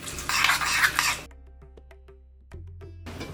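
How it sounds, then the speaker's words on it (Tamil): Hot tempering of golden-fried urad dal and chana dal is added and stirred into Andhra-style tomato dal, wedding catering style; a loud, busy sizzle and scraping opens the clip, then quiet scattered clinks and a faint hum follow. "நம்ம தாளிப்பை சேர்த்துடலாம்."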